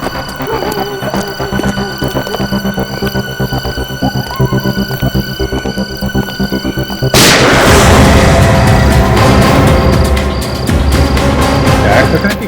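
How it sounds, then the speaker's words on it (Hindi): Gunshots in a scene from the Indian TV crime drama CID: a constant throbbing hum and tone bed, then a sudden loud burst of gunfire and explosive booms that stays dense and heavy to the end. "आवाज तो गोली चलने की आवाज है।"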